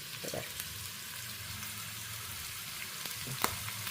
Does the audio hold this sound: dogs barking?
no